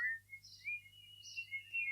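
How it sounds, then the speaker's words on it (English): A chicken in a radio-style audio play gives thin, high whistling tones in short repeated bursts, faint and alone over a low hum. "Why is it whistling like that?"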